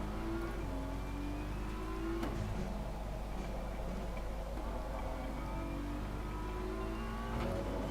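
Racing cars on an online racing game server, with engine notes that rise and fall in pitch as the cars accelerate and shift, heard at moderate volume without talk.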